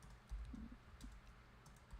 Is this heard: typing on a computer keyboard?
yes